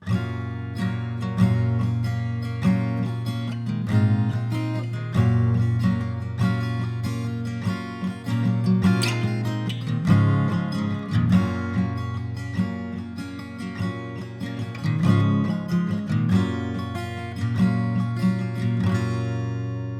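A Martin GPX 1AE acoustic guitar plays alone, strummed chords and plucked notes ringing in a steady rhythm with no voices.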